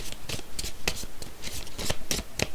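Tarot cards handled on a table during a reading, giving a quick series of crisp papery slaps and shuffling flicks, close and fairly loud, with no voices.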